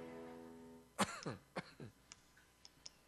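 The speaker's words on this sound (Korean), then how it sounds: "제가 지금 기침을 심하게 해가지고요" One sharp, close cough followed by a few smaller throat-clearing coughs and faint clicks, with quiet stretches between them.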